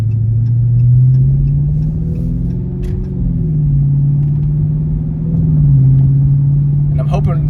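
A 2020 Dodge Charger Wide Body Scat Pack gives off a steady, deep exhaust rumble that swells and settles slightly, running under someone talking close by.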